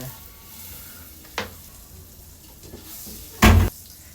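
Butter in a pan for a stovetop baked macaroni sauce gives a low steady sizzle, with a brief clatter and a louder burst of crackling near the end.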